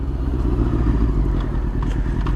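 A small moped passes by on a mild, clear day, its mid-pitched engine buzzing steadily and fairly loud, blending with low road rumble and light clatter.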